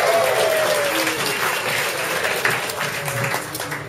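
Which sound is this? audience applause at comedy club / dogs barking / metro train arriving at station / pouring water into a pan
audience applause at comedy club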